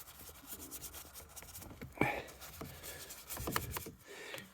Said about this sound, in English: And we wipe over that microfiber.